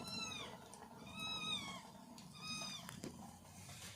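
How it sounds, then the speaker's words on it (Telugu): A cat meows three times in fairly quiet surroundings, each call drawn out and tonal, with a faint low background hum and a small knock between calls. "ఇంకో ఇంకో పిల్లి వచ్చింది"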